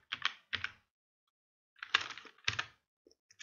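Close, crisp computer keyboard typing in Windows 11, two short bursts of quick clacking keystrokes separated by a second of silence, then a few faint stray taps, with no talking.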